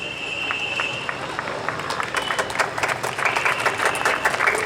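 Audience applause at a science festival closing ceremony, steady and fairly loud crowd clapping that swells toward the end.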